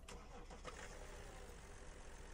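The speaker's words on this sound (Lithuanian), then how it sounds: "Cold startas." A BMW X6 engine running just after a cold start, a steady, full mechanical drone that holds even throughout with no talking.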